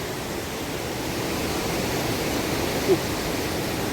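Steady broadband rush of water flowing below a path, constant and fairly loud, with no other sounds standing out and no talking.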